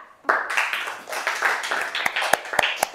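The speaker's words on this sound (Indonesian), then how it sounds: "Kasih tepuk tangan dulu untuk kelompok merah." Applause for a group's class presentation breaks out suddenly as a dense patter of many hands clapping, with a few sharper, louder claps standing out toward the end.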